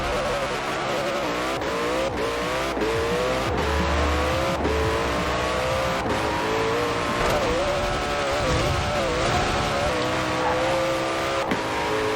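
Koenigsegg Jesko, a 2020 hypercar in Forza Horizon 4, roaring continuously at full throttle on a top-speed run, a loud sustained engine drone with rising harmonics and brief shift breaks, no talking.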